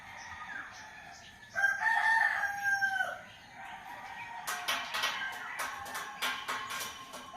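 A rooster crows clearly from moderate distance, a drawn-out call, while a sharp rattling clatter and faint background activity follow.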